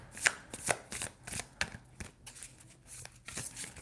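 Tarot cards being shuffled by hand in a live reading, a soft run of quick riffling snaps and flutters in irregular bursts, close and fairly quiet with no talk.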